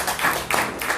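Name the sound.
audience clapping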